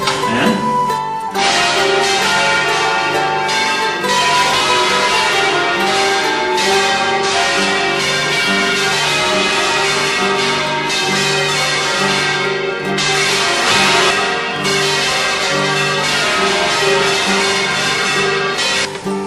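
Church bells in Albaida ring out loud and continuous, several bells overlapping in an irregular, hand-rung pattern with no voices.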